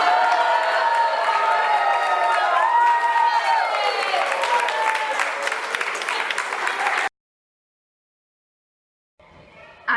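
A pantomime audience breaks into loud applause mixed with cheering and shouted voices, sustained for several seconds before cutting off abruptly to silence, then a faint sound returns near the end.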